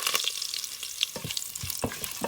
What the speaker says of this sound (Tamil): ஏலக்காய், கிராம்பு போட்டு வதக்குவோம்